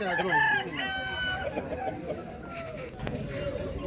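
A rooster crows loudly and close by at a Sunday poultry market in Vijayawada, its drawn-out call rising at the start and fading over a noisy farmyard, with voices chattering beneath.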